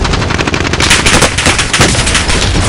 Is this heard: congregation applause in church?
no